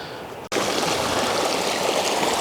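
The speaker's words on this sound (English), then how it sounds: "Well, I found a creek right here." Creek water rushes steadily through a willow thicket in the Grand Tetons backcountry, a loud, continuous broadband flow after a brief cut near the start, with no talking.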